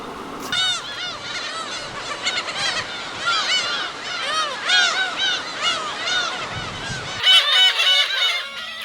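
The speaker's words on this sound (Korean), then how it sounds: "괭이 갈매기 새끼들도 많이 자랐다." Black-tailed gull chicks calling in a dense colony on Baengnyeong Island, a continuous overlapping chorus of loud, honking cries close by, with a sharper burst of calls near the end.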